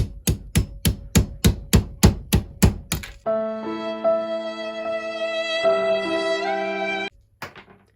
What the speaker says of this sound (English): get a smaller screwdriver and then just punch it the rest of the way out